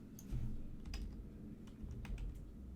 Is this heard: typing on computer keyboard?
yes